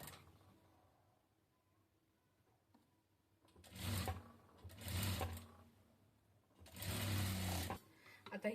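Sewing machine stitching the join on a katori blouse, running in three bursts of steady whirring stitching with quiet pauses between them, close and fairly loud.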